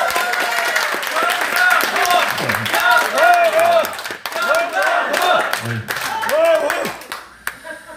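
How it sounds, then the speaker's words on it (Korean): Audience clapping at a press conference in a church setting, a steady broad wash of applause running through the whole stretch with a voice speaking over it and cheers rising at moments. "큰 박수를 주시죠."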